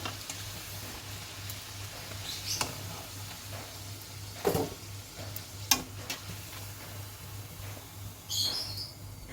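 Poori made from maida and rava dough deep-frying in oil makes a faint, steady bubbling sizzle, broken by a few sharp clinks and knocks, with a brief bird chirp near the end.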